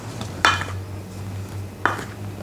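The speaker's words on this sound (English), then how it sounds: "I'm adding in half a cup of chopped dill. This is my favorite, but you can add any kind of fresh herbs or seeds like chia, sesame seeds, etc. Now mix it up." Two sharp clinks of a utensil against a bowl while lavosh cracker dough is mixed with half a cup of chopped dill, spaced about a second and a half apart over a low steady hum.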